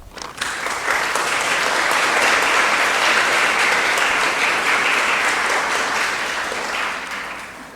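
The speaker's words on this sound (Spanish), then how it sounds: "Que el siguiente aplauso sea para todos los mencionados." An audience at a book presentation breaks into steady applause, a loud, dense wash of clapping that swells quickly, holds for several seconds and tapers off slightly at the end.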